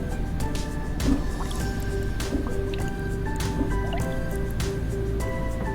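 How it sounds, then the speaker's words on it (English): Water and air escape from a tipped glass held underwater, giving a steady stream of close, gurgling drips and squishy bubbling with no talk. "tip the glass and start to let the water come out, the air come out"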